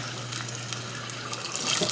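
Tap water runs close by into an emptied 28-ounce can of crushed tomatoes, rinsing out what is left, a steady splashing stream that swells slightly near the end with no talk.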